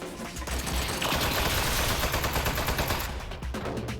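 A turret in Aperture Desk Job sprays rapid automatic fire, a fast, steady stream of close, loud shots that builds and holds for several seconds before breaking off near the end.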